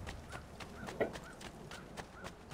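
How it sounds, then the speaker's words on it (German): Horse hooves clop in the video game Assassin's Creed 2, a quiet, steady run of evenly spaced hoofbeats under faint game ambience. "Da ist ein Pferd."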